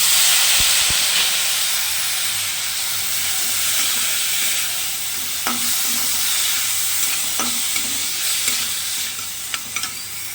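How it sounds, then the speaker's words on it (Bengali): Chopped garlic sizzling in hot oil in a home kitchen pan while being stirred, with a steady loud hiss and occasional scraping knocks of the spoon against the pan. "তারপর দেব রসুন কুচি, দিয়ে নাড়তে থাকি 1-2 মিনিট"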